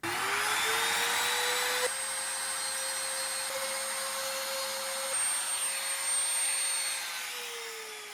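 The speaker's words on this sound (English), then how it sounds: "set the depth on the router bit and route away." A router cuts lacquer from a guitar soundboard where a new bridge will sit, a steady high motor whine running continuously with slight pitch dips as the bit loads into the finish, then winding down at the end.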